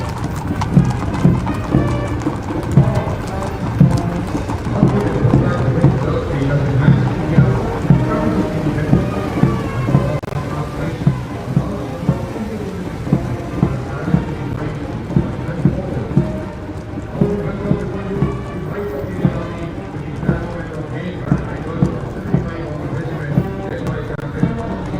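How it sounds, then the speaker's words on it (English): Horse hooves clip-clopping on tarmac during an Independence Day parade, a continuous rhythmic clatter of many hooves at moderate distance, with a rumbling background and crowd or commentary voices in places. "after the clip-clop of the horse hooves on the tarmac"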